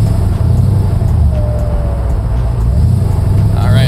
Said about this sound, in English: You're going to be able to hear me shift through all 5 gears